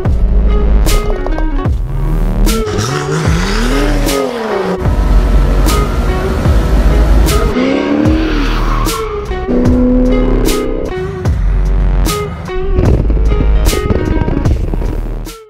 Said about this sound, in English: I finally get the E36 started